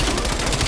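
Rapid automatic gunfire in Black Ops Cold War, a dense, loud burst of shots filling the whole short moment at close range.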